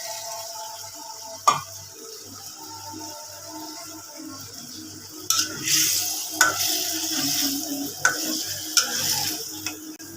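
Onions sizzle and fry in a pan with a steady hiss, broken by occasional spatula scrapes and clinks as they are stirred, close up with no talking.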